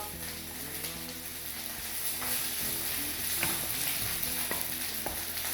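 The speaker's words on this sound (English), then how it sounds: "We're just going to turn this down to a simmer." Onion gravy simmering in a pan, a steady close bubbling sizzle with soft spatters and occasional stirring clinks, continuous and fairly quiet with no talk.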